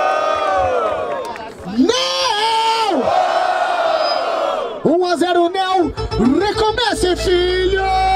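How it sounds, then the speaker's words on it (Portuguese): A crowd at a freestyle rap battle cheers and shouts in loud bursts, with whoops and yells rising over a noisy, reverberant hall. "Barulho para as rimas de Johnny!"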